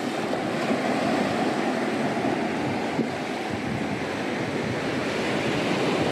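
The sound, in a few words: waves at the water's edge in Spain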